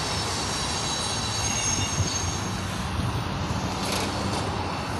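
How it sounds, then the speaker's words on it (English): A train rumbles past loudly and steadily at close range, wheels squealing on the rails and a dense roar filling the whole stretch with no pause. "Oh, here comes a train through the area. Those things are really loud."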